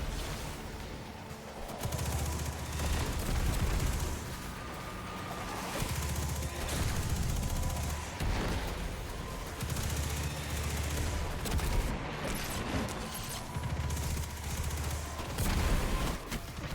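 Enemy shotgun fire in a video game, dense rapid bursts of gunshots running continuously and fairly loud, layered with game noise and no clear gaps.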